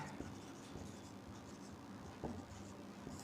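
A teacher writes during a chemistry lesson, producing faint, close scratchy strokes with a few sharper taps over a soft, noisy room background.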